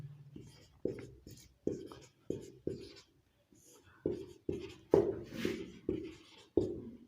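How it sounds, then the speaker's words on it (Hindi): Chalk or marker writing on a board in a classroom lesson, a steady series of short scratchy strokes in an irregular rhythm, close and fairly quiet, with soft speech mixed in. "डेफिनेशन यहाँ पर मैं आपके सामने बोर्ड पर लिख रहा हूँ"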